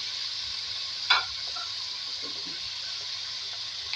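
Onion and ridge gourd fry in a pan with a steady, close hiss of oil, broken by a brief louder scrape of stirring near the one-second mark and a few soft clinks afterward.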